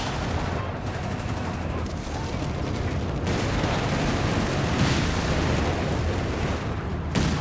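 Rapid gunfire and battle noise from the strategy game Company of Heroes 3 rattle on without a break, dense and loud, with rifles and machine guns from an anti-tank engagement mixed with occasional booms.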